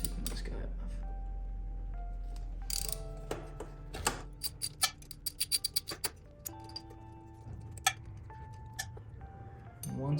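Socket wrench ratcheting on a 10mm bolt on a motorcycle radiator guard, a quick run of sharp clicking ratchet strokes with a few scattered taps, close and fairly clear over a low steady hum.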